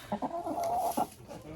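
Hens in a henhouse cluck in short, close bursts, with one drawn-out rising call in the middle and quieter clucks trailing off.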